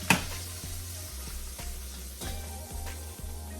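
A steady crackling sizzle of melted butter in a hot glass Pyrex dish, with a low hum and occasional soft knocks.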